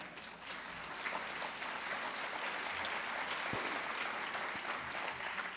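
A debate hall audience breaks into sustained applause, a steady even wash of clapping heard from a distance at low level, with no voices on top.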